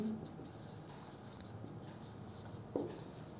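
Marker or chalk scratches faintly on a board during a physics lesson, soft intermittent strokes beneath a quiet room hum.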